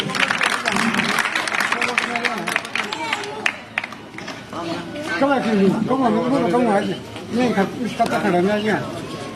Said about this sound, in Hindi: मराठा वीरेंद्र वर्मा जी, जोरदार ताली से स्वागत आपको